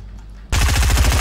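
Rapid automatic gunfire from the video game Fortnite erupts suddenly after a quiet moment, a loud, dense, steady burst of shots that continues to the end.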